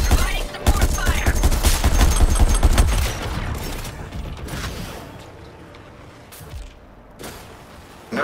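Dense, rapid gunfire from the Suicide Squad: Kill the Justice League video game, with sustained bursts loud in the first few seconds, then thinning into scattered shots and mechanical clatter over a lower background.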